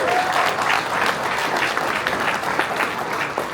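Audience applause at BourbonCon, a bourbon convention event, a loud, lively round of clapping from a crowd, sustained and fairly close for over three seconds with no speech on top.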